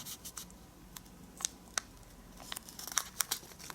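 A square sheet of origami paper is folded and pressed along a crease, giving close, crisp crinkles and rustles in quick irregular bursts with no voices.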